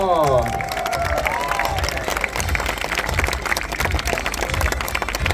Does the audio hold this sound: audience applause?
yes